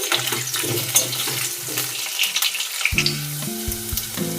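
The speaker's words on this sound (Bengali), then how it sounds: "আলুটা প্রথমে লাল করে ভেজে নিচ্ছি" Long-cut potatoes frying in hot oil in a pan with tempered spices until browned for a bitter gourd chorchori, a steady close sizzle with stirring scrapes and a few clinks throughout.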